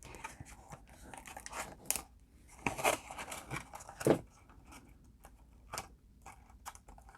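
Thin slivers of material are cut for customizing a Green Ranger action figure, making a run of small crisp snips and crunching cuts at an irregular pace, close and quiet, with no talking.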